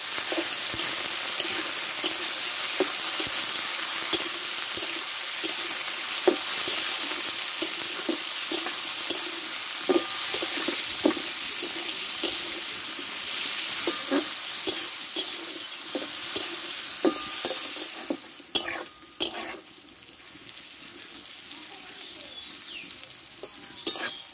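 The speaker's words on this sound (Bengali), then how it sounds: "আমি এতে 1 চিমটি হলুদ দিয়ে দেবো, আর দেবো 1 চিমটি লবণ। ভালো করে কষে নেব।" Bitter gourd is sautéed in a pan with a pinch of turmeric and salt, a constant sizzle broken by repeated scraping stir strokes. The sizzle is loud at first and thins out near the end, with no talking.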